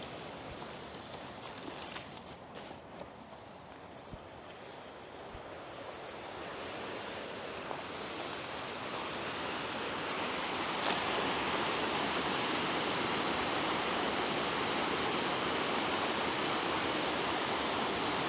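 Macun Stream flows below the viewpoint, across from Ankara Çayı, making a steady broadband rush of running water that holds constant and swells slightly louder toward the end, with no voices.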